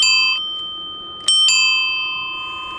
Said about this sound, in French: vous leur donnez un coup de sonnette